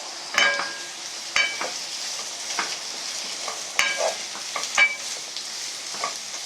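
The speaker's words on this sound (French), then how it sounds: "je vais remuer un petit peu mes carottes" Carrots fry in a pan for a Russian-style buckwheat and vegetable dish while a utensil stirs them, giving a soft background sizzle broken by irregular scrapes and clacks against the pan.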